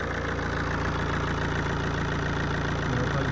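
A 1.9-litre Alfa Romeo GT Rosso Competizione idles with a steady, loud, throbbing rumble, fresh from an oil change and an EGR replacement, the engine note constant throughout with no voices.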